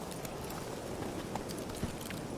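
Hooves of Roach, a horse in The Witcher 3: Wild Hunt, clip-clop steadily over a low, noisy game ambience, with a couple of slightly louder footfalls standing out.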